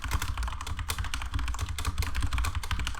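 Fast, steady typing on a computer keyboard, close and fairly quiet, with dense overlapping key clicks and no voices.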